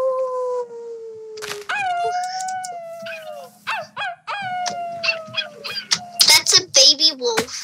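A voice imitates a wolf howl with long wavering rising and falling cries, followed by short yips and playful vocal bursts.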